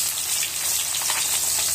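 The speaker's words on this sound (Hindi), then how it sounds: "यहाँ मेरी मछली फ्राई हो रही है" Fish frying in a pan gives off a dense, continuous hiss of spattering oil, bright and close, with no voices over it.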